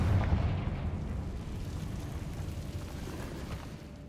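A Confringo spell explodes in Hogwarts Legacy: a deep, booming blast at the start that rolls off into a long, rumbling tail, loud and close.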